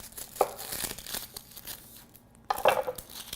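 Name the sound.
knife cutting the end off an onion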